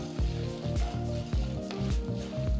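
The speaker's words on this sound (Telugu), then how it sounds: "ఒక టేబుల్ స్పూన్ అంత శనగపప్పు ఒక టేబుల్ స్పూన్ అంత మినపప్పు వేసి వేయించాలి" Chana dal and urad dal fry in a tablespoon of oil in a pan, crackling and sizzling in repeated bursts as they are stirred, close and with no voices.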